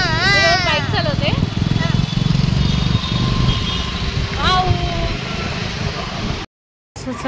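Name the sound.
motorcycle being ridden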